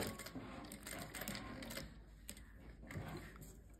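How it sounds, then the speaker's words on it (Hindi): A sewing machine stitches along a buckram-backed neckline, a quiet rapid mechanical chatter in short runs with brief pauses, faint and close. "बुकरम के साथ साथ हमने इसको स्टिच करना है"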